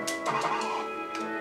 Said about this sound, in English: They sound like hens.